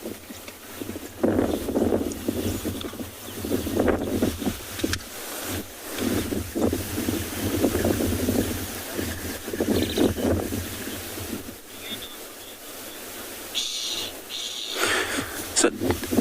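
Wind buffets the microphone on a sunrise safari drive at Tswalu, a continuous broadband rumble and hiss that rises and falls in gusts, with faint voices now and then beneath it.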